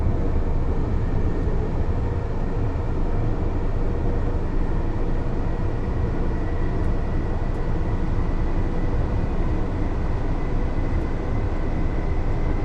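A Class 801 Azuma train on the East Coast Main Line in Train Sim World 4, accelerating under power with a steady, loud, continuous low rumble and rolling drone that holds evenly throughout, with no talk.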